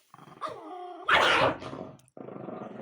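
A dog growls and gives short rough barks close by while playing with a toy, the snarling rising in a loud burst midway before settling back into a steady low growl.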